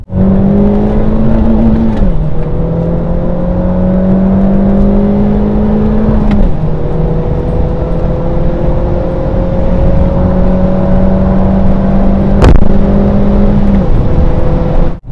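A small, low-powered sports car pulls hard through its gears, the engine note climbing steadily with sharp dips at each shift, loud and close from inside the cabin.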